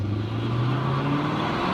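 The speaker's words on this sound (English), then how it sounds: "Let's see if it burns out." Car engine droning steadily under load during a burnout attempt after a fuel pump job, a continuous close rumble with no voices.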